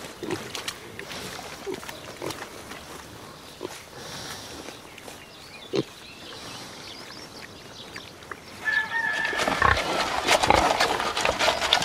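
Pigs rest in a mud bath on a farm, giving scattered soft grunts and snorts over a low background, with louder squealing and rustling toward the end.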